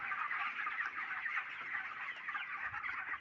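Broiler chickens cluck and murmur together in a poultry farm shed, a constant busy chatter of many birds at moderate distance, without any voices.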